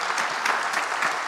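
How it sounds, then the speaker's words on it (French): A roomful of people applauding together at a circular-economy event, a dense, even patter of claps that holds steady throughout. "Je pense qu'on peut les applaudir pour leur témoignage."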